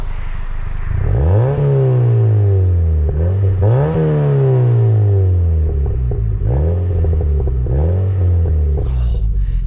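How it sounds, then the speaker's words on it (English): A Mazda MX5 2.0L sport engine revs repeatedly, each rev rising and falling in a sawtooth pattern, with several close, loud blips and a steady rumble underneath. "you don't even have to rev it much to like get it sounding nice"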